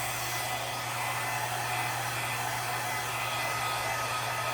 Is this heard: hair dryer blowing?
yes